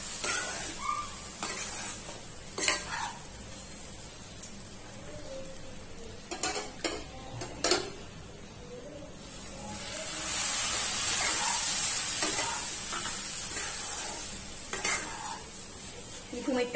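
Upma is stirred in a hot pan with a spoon, a soft continuous sizzle under scattered sharp metallic scrapes and clinks, with a steadier stretch of frying hiss partway through.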